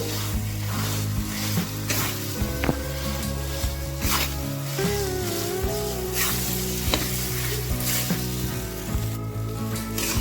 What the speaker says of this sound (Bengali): মশলাটা ভাজা ভাজা হয়ে আসলে দিয়ে দেব মাখিয়ে রাখা আলু দিয়ে ভালো করে নেড়ে নেব